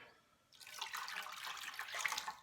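Water runs and splashes steadily for about two seconds after a brief quiet start, a close, bright rushing pour into a vinegar and soy sauce rib marinade.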